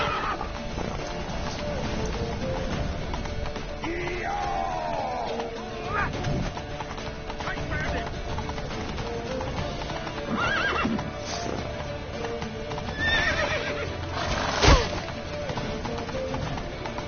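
Horse hooves clip-clop in a rapid galloping rhythm over a busy soundtrack in The Witcher 3, with a horse whinnying loudly partway through.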